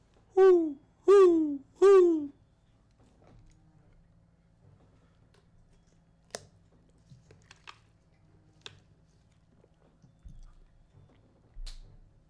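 A person imitates an owl with three loud, drawn-out vocal hoots in quick succession, followed by a quiet stretch of faint clicks, rustles and small noises.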